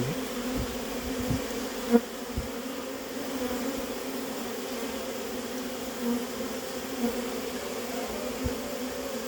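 A recovered honeybee swarm buzzing around a hive, a steady dense hum of many bees close by, with occasional soft knocks.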